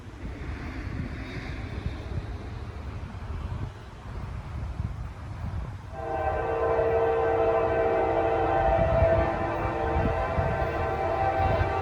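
A CSX freight train with two distributed power units and a mix of intermodal cars and auto racks rumbles past outdoors under wind, then grows louder about halfway through as steady tonal wheel and engine drone takes over, with no one speaking.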